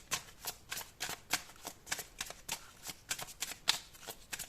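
Tarot cards are shuffled by hand in quick, crisp riffling bursts, a rapid irregular series of soft papery flicks heard close and quiet with no talking.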